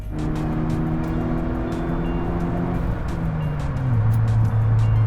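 A loud MK6 VW GTI engine roars continuously, its pitch climbing and then dropping into a lower steady drone as it accelerates, close and dominant throughout.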